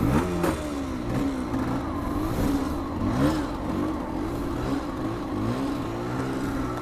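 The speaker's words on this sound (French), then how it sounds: "Fait du bruit la moto à Benjo je trouve." A 125cc motorcycle engine revs up close, its rumbling growl swelling and easing in repeated surges with no voices.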